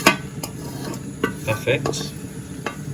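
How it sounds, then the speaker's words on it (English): Spaghetti gets stirred in a pan, with a few quick scraping and clinking strokes of a utensil over a soft sizzle, close by, while one short spoken word comes in between. "And then I will stir and make sure it has mixed well."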